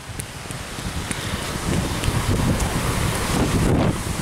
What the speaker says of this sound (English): You probably hear a lot of wind right now.